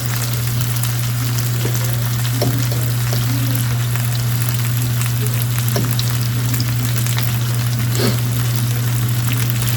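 Noodles cook in a pan with steady, loud frying sizzle, a constant crackling hiss that carries through the whole stretch along with a low steady hum and a few light clicks.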